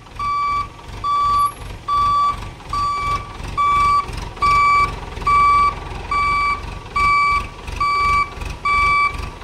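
Truck backing into a closed shipping container during a solar panel pallet unload, its reversing alarm beeping in a loud, regular rhythm over a low engine rumble.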